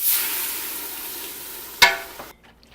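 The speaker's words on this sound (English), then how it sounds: "we're going to go ahead and add our stock before this starts to burn" A dark roux fries with a steady, bright sizzle until stock hits the pan in one loud splash and hiss, after which the sizzling cuts out almost entirely.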